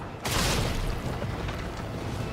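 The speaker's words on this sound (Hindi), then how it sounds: "पता ही नहीं लग रहा है ग्रेनेड चला है या कुछ पटाखा चल रहा है एक रुपये वाला" A grenade goes off in the Resident Evil 3 Remake video game, a sudden dull, thin boom followed by a noisy, lingering rumble of moderate loudness without much weight.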